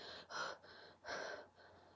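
A person mimics fast, panicked breathing with two quick, sharp breathy gasps, close and quiet, with no speech.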